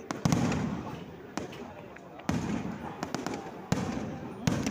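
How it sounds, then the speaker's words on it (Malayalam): Fireworks at a church feast burst in a series of sharp booms, about five blasts spaced a second apart, each followed by crackling rumble, with voices underneath. "വീണ്ടും നമ്മുടെ വെടിക്കെട്ട് നടന്നുകൊണ്ടിരിക്കുന്നു."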